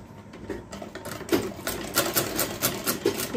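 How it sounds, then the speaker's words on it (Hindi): Sewing machine stitching along folded shirt fabric, a close rapid mechanical clatter in quick repeating bursts with a steady rhythm throughout. "फोल्ड करके इस पे सिलाई लगाएंगे।"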